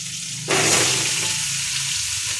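Pointed gourd hitting hot oil with green chilli and panch phoron, a sudden loud sizzle bursting in after a quiet start and then holding as a dense, continuous hiss.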